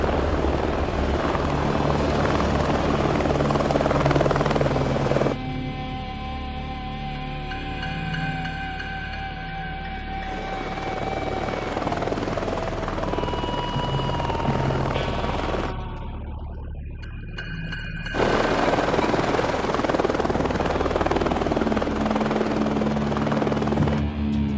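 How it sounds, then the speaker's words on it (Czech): A helicopter flies continuously with a dense, steady rotor chop and engine whine, loud and close, shifting in tone as it moves, with no speech over it. "Poslali pro něj vrtulník místo,"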